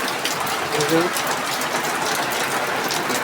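Heavy rain pours outside a home as a steady broadband hiss that runs throughout, with a person talking over it.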